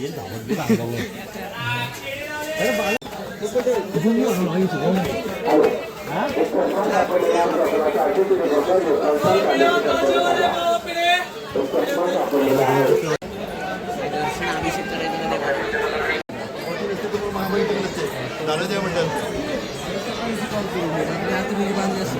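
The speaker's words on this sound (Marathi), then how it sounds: "तर लाईनीला गर्दी बघा काय जाम आहे गर्दी" A dense crowd chatters nonstop in a packed queue at a temple, with many overlapping voices and occasional laughter close by.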